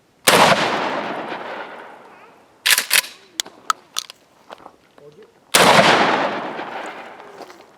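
A Mossberg Maverick 88 Cruiser pump shotgun fires target shot shells outdoors: two loud, close blasts several seconds apart, each with a long echoing decay, and people talk briefly between them.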